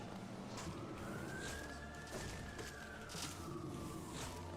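A loud police car siren passes by outside, a single rising and falling wail that carries steadily across the clip over background hum.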